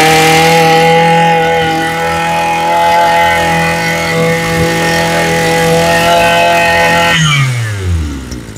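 A Japanese-brand grass trimmer engine runs close by at a loud, steady high-pitched whine for about seven seconds, then drops sharply in speed and winds down at the end.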